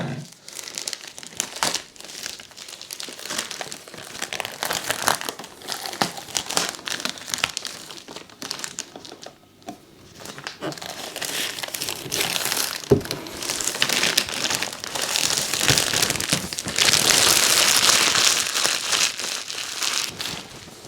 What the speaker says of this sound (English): Comes in this kind of cellophane covering, so we will just get this off.